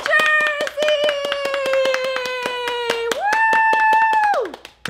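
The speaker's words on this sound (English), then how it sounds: "everybody clap for Jersey" A few people clap in a quick, steady rhythm for Jersey the parrot while a high voice cheers over the claps, close and loud, fading out at the end.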